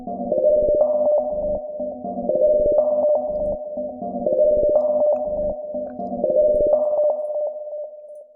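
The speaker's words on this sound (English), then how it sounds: "it does change into more, I don't know how to describe it, like a demonic kind of noise." Eerie, demonic-sounding synth sample in a Siren Head song, a droning, wailing tone repeating in a steady looped pattern of four cycles with pulsing chopped accents, loud and alone.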